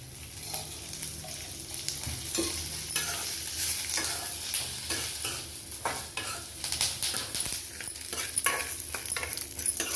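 Curry leaves and mint sautéed in a little oil, with close, steady stirring and sizzling frying sounds throughout, loud and continuous with no talk.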